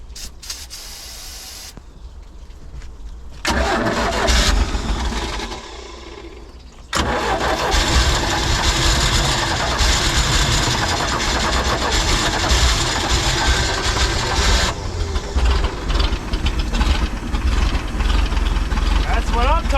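A 1989 Raven boat engine cranks, catches and settles into a loud, steady idle with a faint rhythmic knock, voices talking over it near the end.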